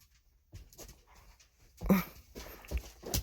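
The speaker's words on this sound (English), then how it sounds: "Look at these crazy dogs. They're going to fight over the cat's fish." Dogs scuffle over a cat's fish indoors, with panting, whimpers and snorting bursts that grow louder and busier in the second half, close by.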